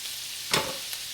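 Medium-diced yellow sweet onion fries in a pan with a soft, steady sizzle, and one brief stir or scrape stands out near the middle of the clip.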